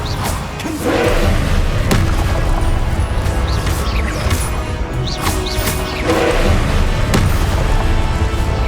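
Confringo blasting spells explode in Hogwarts Legacy, with several heavy booms and thuds, two pairs close together, rising over a constant dense wash of game noise.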